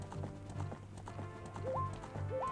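Horse hooves clip-clop in a steady, rapid galloping rhythm in the Nintendo 64 game Zelda: Ocarina of Time, with short rising game-sound blips and a low musical drone underneath, close and clear.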